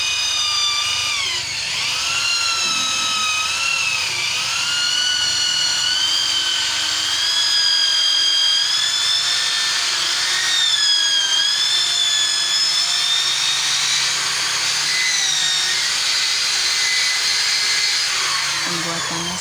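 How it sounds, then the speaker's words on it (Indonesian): Power drill boring into a bird cage part, a continuous high-pitched whine with shifting pitch as the bit loads and eases, close and steady for the whole stretch. "Cara mengubah gunungan dibor pakai alat bor."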